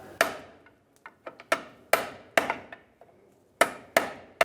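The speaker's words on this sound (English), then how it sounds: "I'm going to hammer on the end of my pry bar" Sharp metallic hammer strikes on the end of a pry bar ring out irregularly, a few hard blows mixed with lighter taps, close by with no talking, working a steering shaft off a 1997-2003 Lexus ES300 steering rack.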